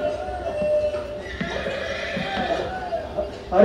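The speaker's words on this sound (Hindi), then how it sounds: "अरे वाह, इतना लंबा चौड़ा घोड़ा।" A large, sturdy horse neighs loudly and at length, a wavering whinny with faint hoof clops in a busy setting, while people talk over it.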